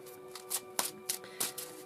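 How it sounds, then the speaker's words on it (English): A tarot deck being shuffled by hand, several quick riffling bursts of cards in a steady rhythm, close and fairly soft, with a faint steady hum beneath and no talking. "just give this deck a last few shuffles"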